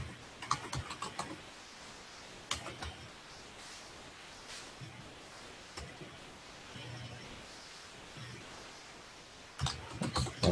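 Quiet typing on a computer keyboard during a help session, with scattered bursts of soft key clicks separated by stretches of faint room noise.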